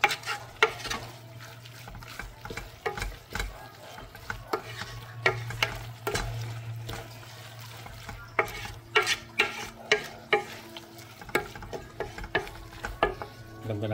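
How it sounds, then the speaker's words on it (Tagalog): Stingray and malunggay leaves in coconut milk stew are stirred in a pan, with repeated sharp scraping clicks of a utensil over a steady low simmering sizzle, the strokes becoming more rhythmic toward the end. "Haluin lang natin ng haluin hanggang sa ma-mix yung ano, ma-mix yung ating malunggay"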